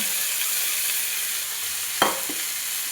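Tomatoes, carrots and beans sizzle steadily in a pan for rava upma, a constant frying hiss with a single sharp scrape or stir near the middle.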